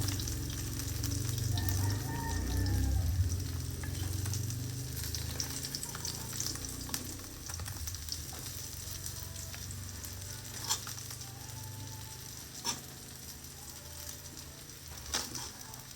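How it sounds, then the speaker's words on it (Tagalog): Fish frying in a pan until slightly toasted, a steady close sizzle that swells louder early on, then settles into a softer crackle with occasional sharp pops and stirring clinks, and no talking. "pagkakaprito ng isda"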